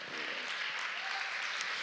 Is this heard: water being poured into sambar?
no